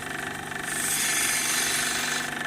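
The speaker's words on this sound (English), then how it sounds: "First time I used this little grinder I've set up." Homemade grinder cutting opal and potch in New South Wales, Australia, a loud steady buzzing whine with a rattling, hammer-like texture, swelling briefly midway, heard close up with no talk.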